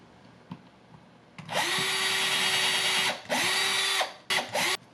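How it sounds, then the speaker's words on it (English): A power drill bores pickguard screw holes in a DIY relic Telecaster build, sounding as a long whining burst, then a shorter one, and two quick final spurts with brief quiet pauses between. "So same thing, we're going to use the same drill bit, because we're using the same screw."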